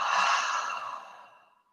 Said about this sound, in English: Open mouth exhale. Make it really audible.